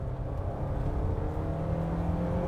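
A Volkswagen Golf Mk1 Cabriolet GLI engine revs steadily close by, a continuous droning hum with a rising whine, heard alone without voices.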